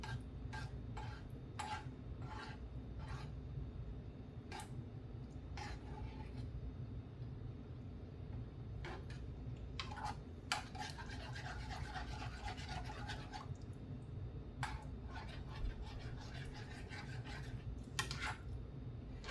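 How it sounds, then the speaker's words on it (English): Chicken stroganoff stirred in a pan, utensil scraping and rubbing against the pan in repeated short strokes with faint clinks, fairly quiet over a steady low background hum. "stir that in"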